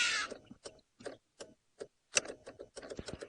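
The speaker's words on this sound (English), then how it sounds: "My car is making a really weird clicking noise and I don't know why." A car's indicator ticks in sharp, evenly spaced clicks, a steady rhythm, close and fairly quiet, with a brief burst of noise at the start and no talking. The indicator is stuck on and won't switch off.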